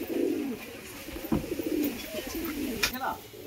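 Royal teddy pigeons coo in soft, low repeated calls close by, with a few sharper sounds breaking in between.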